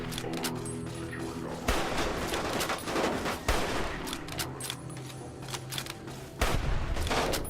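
Rapid gunfire bursts in the video game Fallout New Vegas, loud and dense with sharp reports and repeated volleys, layered over music and other game sounds.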